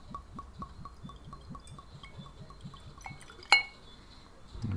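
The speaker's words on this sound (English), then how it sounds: "let's pour a dram" Laphroaig 10 year old whisky glugs from the bottle into a glass in a quick, steady run of gurgles, ending in a sharp clink of glass. The sound is close and quiet, with no talking.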